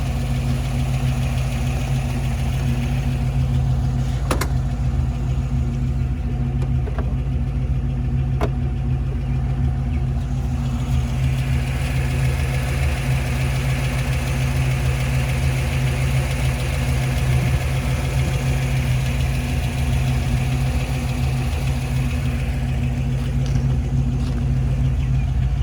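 A candy green Factory Five 1933 Ford idles steadily, its engine giving a loud, even low rumble with a faint mechanical tick for the whole stretch, close by, with no talk and a couple of brief clicks.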